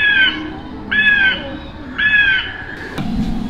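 A soft plastic pterodactyl dinosaur toy sounds its call, three harsh crow-like squawks in a steady rhythm, fairly loud and close, each followed by a short pause, then a thump at the end.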